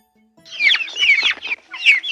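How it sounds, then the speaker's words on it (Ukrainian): High, thin peeping from a domestic chicken chick, a quick run of shrill chirps in short bursts, close and fairly loud. "Курча пищить."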